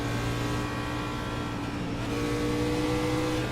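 A race car engine in a NASCAR racing video game at Indianapolis, driven by a Toyota, drones steadily and loudly with a constant high whine throughout, no voices over it.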